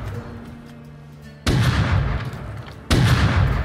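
Two heavy double-barrel shotgun blasts in the survival video game Rust, loud and close, spaced about a second and a half apart, each a sharp boom followed by a roaring tail.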